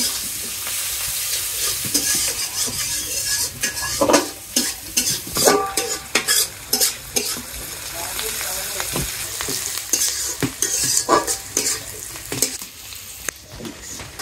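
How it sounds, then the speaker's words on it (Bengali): Onions sizzle and fry loudly in a pan before meat goes in, with steady crackling and repeated stirring scrapes throughout. "পেঁয়াজ, পেঁয়াজটা একটু ভাজি হইলেই মাংস দিয়ে দিই।"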